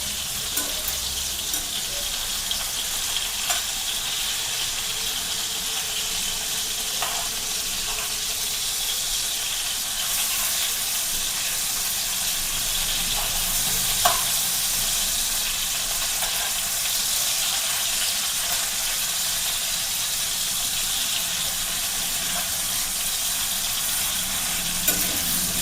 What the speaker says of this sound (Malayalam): നമുക്ക് ആ സമയം കൊണ്ട് ചട്ടി അടുപ്പത്ത് വെച്ച് കത്തിക്കാം. നമുക്ക് ഉള്ളിയൊക്കെ വഴറ്റിയെടുക്കണമല്ലോ.